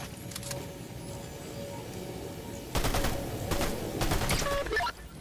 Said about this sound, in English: Take some of these guys out with this SMG back.